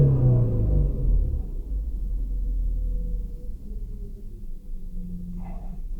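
Engine of a 2003 Hyundai Sonata revved hard at full throttle, a loud, deep rumble up close that settles into a steadier drone.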